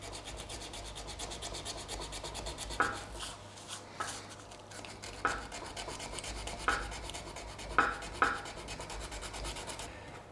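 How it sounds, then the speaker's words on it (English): A small piece of 50 grit sandpaper scores the back of a plastic clip, giving quiet rough rubbing and scratching strokes with a few sharper scrapes, close and faint, no talking. "small bit of sandpaper, which is 50 grit if you're interested, and we're just going to put some nice scores in the back of this"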